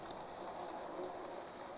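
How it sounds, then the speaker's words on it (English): Small 3-pole motor of a Jouef HO scale 030T Boer 0-6-0 tank locomotive running with a steady, noisy, growling whir, constant and fairly quiet with a hissy high edge. "It's really noisy and growly, and this is because of it being a 3-pole motor."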